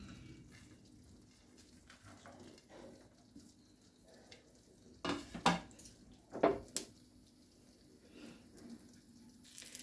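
Cashew nuts frying in a pan for red velvet halwa, a faint low sizzle under kitchen clatter, with a few sharp clinks and scrapes of a utensil against the pan midway.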